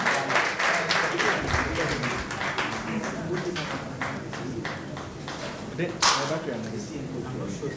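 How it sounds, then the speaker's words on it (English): Faculty members at a university masterclass clapping for a colleague, sparse individual claps at an uneven pace from a small room, with murmured voices underneath and one sharper clap near the end. "Oh, let's clap for Abigail."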